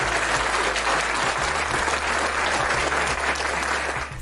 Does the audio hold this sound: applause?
yes